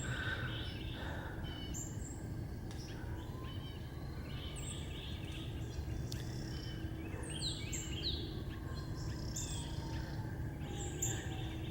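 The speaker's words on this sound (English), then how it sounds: "The birds sound happy." Several birds chirp and sing repeatedly outdoors, bright calls scattered over a steady low rumble of background noise.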